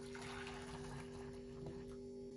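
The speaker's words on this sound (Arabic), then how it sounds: "كمان بحط فوق المي مغلي" Boiling water pours steadily over eggs sitting in a cooking pot, making a continuous gushing, splashing flow under a faint steady hum.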